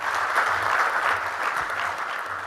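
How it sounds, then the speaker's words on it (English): A hall audience at the launch of a national ICT job fair claps in a steady, full round of applause that holds at an even level throughout. "Another round of applause, ladies and gentlemen"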